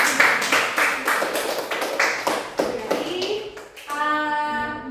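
Classroom audience claps in a quick burst of overlapping applause, then it fades into a short tonal sound at the end.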